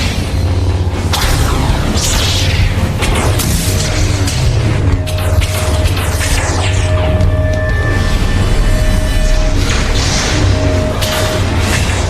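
Mech weapons firing in an animated sci-fi battle, a loud, dense barrage of booming blasts and whooshing projectiles with continuous rumbling explosions and mechanical tones throughout.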